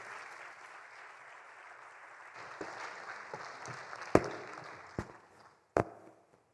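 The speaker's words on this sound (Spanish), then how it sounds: "los recibimos con un aplauso." Welcoming applause for incoming speakers at an insurance conference in Bolivia, a moderate patter of clapping that fades out, followed by a few sharp knocks or thuds near the end.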